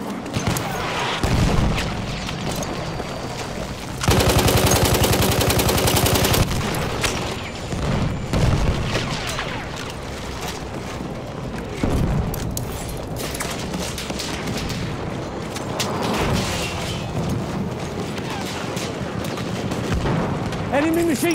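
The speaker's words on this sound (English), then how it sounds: "Enemy machine gun!" A machine gun firing in Battlefield 1 on Zeebrugge, a sustained rapid-fire stretch of several seconds standing out amid ongoing booms, scattered shots and voices on a busy battlefield.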